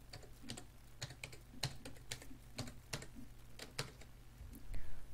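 Keys tapped on a computer keyboard while entering a password into a crypto wallet app, a quick run of light, irregular clicks with short pauses, close and fairly quiet, no voices.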